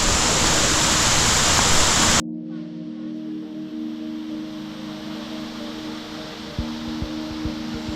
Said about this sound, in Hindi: आगे से आपको दिखाते हैं वाटरफॉल का व्यू